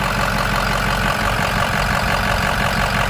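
A 2005 Ford F-350 utility bed truck with a 6.0 liter Power Stroke turbo diesel idles steadily up close, a loud, even low clatter and rumble that holds unbroken with no talking.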